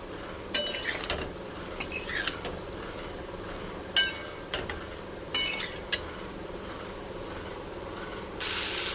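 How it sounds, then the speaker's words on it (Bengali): Pumpkin and potato are sautéed in a pan for a vegetarian curry, a soft steady sizzle broken by several sharp spatula scrapes and clinks against the pan, close up with no talk. "কুমড়োটাও দিয়ে দিলাম। এটাকেও একটু ভালো করে কষিয়ে নেব।"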